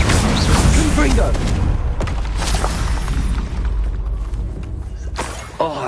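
A fire-blast spell explodes with a heavy, rumbling boom during Hogwarts Legacy combat, loud and sustained with crackling debris and layered battle effects, a voice shouting over the blast.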